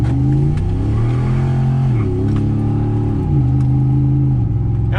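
Hemi-engined truck accelerating at about half throttle, a loud close engine roar climbing in pitch through several gear shifts, each shift marked by a brief dip before the revs rise again.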